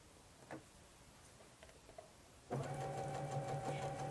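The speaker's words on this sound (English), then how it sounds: "I'll just do a couple of them so that you can see what chain sewing is" A sewing machine chain-stitching quilt patchwork pieces for a Log Cabin Court House Steps quilt starts after a few soft handling taps, then runs in a steady, close, rapid mechanical whir with fast rhythmic ticking.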